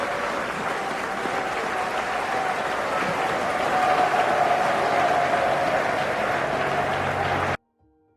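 A theatre audience breaks into sustained applause in a film scene, a dense, even wash of clapping that builds slightly and then cuts off abruptly at the end.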